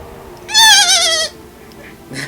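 A man imitates a dolphin with a loud, high, wavering squeal held for just under a second, then brief quieter vocal noise follows.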